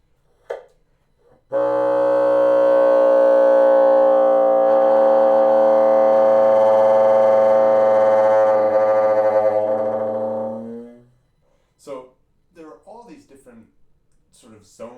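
A loud, sustained reed multiphonic with a rough, rattly buzz, holding steady for about ten seconds before cutting off, followed by brief talking.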